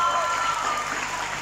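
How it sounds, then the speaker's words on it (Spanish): A live audience at a parody group's show applauds in a brief, dense burst of clapping, with a voice faintly audible under the clapping. "Un aplauso para Pablo, ¿verdad?"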